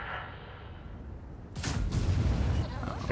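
A tank cannon fires in the video game World of Tanks, a single loud booming blast about halfway through that swells with broad rumbling noise and lingers over quieter game background sound.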